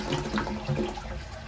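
A toilet cistern drains during a flush test, giving a close, steady gush of running water with gurgling bubbles and no talk over it.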